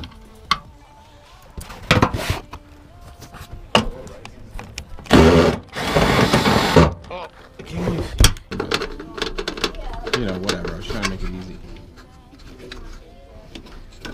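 A ratchet loosening front bumper fasteners on a 2016-2024 Camaro SS, close by: scattered clicks and knocks, then a dense burst of rapid mechanical clicking, followed by more intermittent clanks and handling noise.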